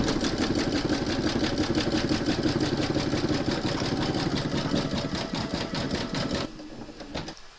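Embroidery machine stitching metallic thread on a large mermaid and dolphin applique, a close, rapid mechanical chatter of the needle running steadily, then slowing and stopping near the end.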